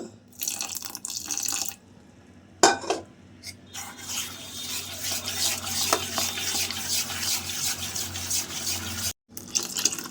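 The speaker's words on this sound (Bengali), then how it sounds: "আর এইখানে আমি উষম গরম জল নিয়েছি ব্যাটারটা বানানোর জন্য।" Rice flour batter with salt is mixed by hand with warm water for chakli pitha. Close stirring and sloshing sounds mix with splashes and bowl knocks, and there are a few short pauses.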